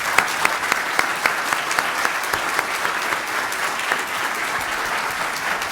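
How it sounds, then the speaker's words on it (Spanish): A room full of people applauds warmly after a conference on judicial independence, with dense, steady clapping that holds at an even level for about six seconds. "además del aplauso sincero y caluroso por esta excelente conferencia"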